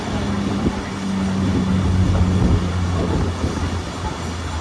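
A locomotive runs close by at a heritage railway expo, a steady low rumble with mechanical hum and faint clanking that swells slightly and holds throughout, with no talk over it.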